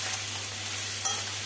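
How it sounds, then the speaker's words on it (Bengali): Vegetables for neem shukto fry in a pan with ginger paste, sugar and salt, giving a steady close sizzle over a low hum, with an occasional scrape of stirring. "সবজিটা বেশ কিছুটা ভাজা হয়েছে, তবে আরও একটু ভাজা হবে।"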